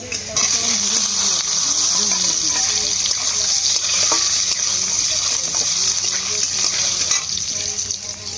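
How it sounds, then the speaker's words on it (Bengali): Potatoes and bay leaf fry in hot oil in a home kitchen pan for an egg curry, giving a steady loud sizzle with stirring scrapes throughout, no voice over it. "মধ্যে আর একটু তেল দিয়ে দেবো, তেজপাতা ফোড়ন করবো, আলুটা দিয়ে দেবো"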